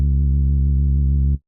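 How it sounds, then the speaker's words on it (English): A single sustained sine-oscillator synth bass note with a gentle pitch wobble from an LFO vibrato, steady and loud for just over a second before cutting off. "this basically makes the bass line have an LFO for the pitch"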